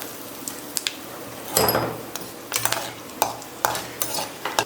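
Whole garam masala spices sizzle in hot oil with a soft, steady hiss, broken by scraping and clinking as a spoon stirs the pan up close.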